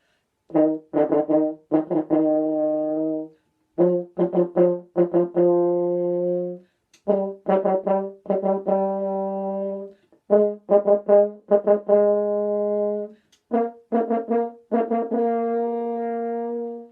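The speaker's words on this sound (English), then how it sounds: "Here's what it'll sound like on the horn." A French horn plays a grade 7 exercise in short phrases of clipped repeated notes ending on longer held tones, clear and alone with brief pauses between groups.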